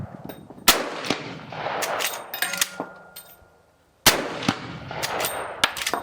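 Booming lever-action rifle shots from a heavy cartridge, fired offhand: several loud close blasts with the clack of the lever being worked between them, then a silent gap and another burst of shots and action noise.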